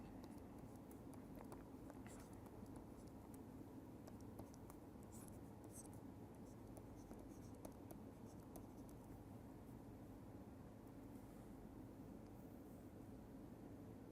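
Pen scratching and tapping as an equation is written out by hand, faint and steady, with small strokes scattered over a quiet constant background hiss.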